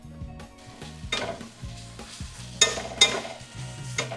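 Spinach and vegetables sizzle and fry in a pan for a breakfast meal prep, a steady crackle broken by a few louder stirring scrapes and clinks of a utensil against the pan, close and with no talking.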